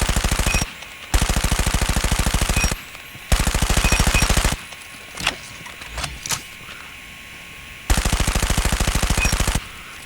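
Automatic gunfire from a weapon in COD Mobile: four loud, rapid sustained bursts, each lasting one to two seconds and separated by short pauses filled with quieter game clicks and clatter.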